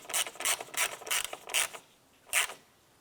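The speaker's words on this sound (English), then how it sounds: "tighten down this bolt" Wrench tightening a bolt while installing an AC condenser on a 2005-2007 Ford Five Hundred: six short rasping ratchet strokes in an uneven rhythm, close and clear, the last after a brief pause.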